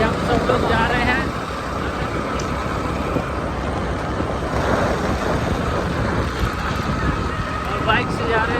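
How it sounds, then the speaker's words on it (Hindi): Steady broadband rumble and wind buffeting from riding a motorcycle to a temple in Panna district, Madhya Pradesh, continuous and close throughout, with a voice talking over it. "और बाइक से जा रहे हैं।"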